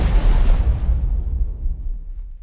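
A Starburst missile explosion in the space game X4 Foundations, one loud, deep booming blast that rumbles and slowly dies away over a couple of seconds.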